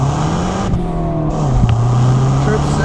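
A turbocharged 2011 Mazda Speed3 accelerating hard in a rolling first gear, its engine droning steadily upward at close range, heard from inside the cabin.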